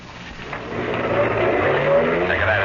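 Car in a radio drama speeding past a driver hidden at the roadside at night, a steady engine roar that swells in the middle and stays fairly loud through the pass, with no voices.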